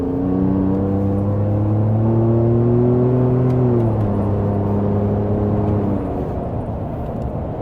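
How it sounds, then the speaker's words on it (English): Ford F150 pickup with a 3.5 EcoBoost engine and AWE exhaust accelerating hard on a cold morning, a loud steady engine drone climbing in pitch, easing briefly, then rising again while the tires spin, with no talk. "I started spinning tires, bro."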